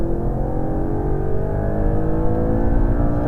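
Audi R8 engine pulling hard on a race track during a driving course, a steady, close, throaty drone with rising harmonics as the car accelerates, heard from inside the cabin.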